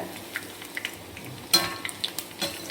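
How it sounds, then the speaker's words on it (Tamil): Bondas made with groundnut oil bubble and crackle as they deep-fry, a soft hiss with scattered sharp pops and light utensil clicks, fairly quiet and close, with no talking. "கடலை நெல்லை பண்ணுறதால நல்லா பபுள்ஸாக வருது. நல்லா பொரியட்டும்."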